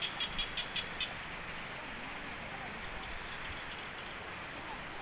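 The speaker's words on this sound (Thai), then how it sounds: "ฝนก็เริ่มสิตกแห้งแล้วพี่น้อง" Steady, dense rain hisses from the start of a storm over flooded rice fields, with a few faint taps early on and no talk.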